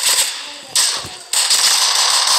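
Rapid gunfire in the mobile shooter game Critical Ops, loud sustained bursts of automatic shots broken by brief gaps, close and harsh.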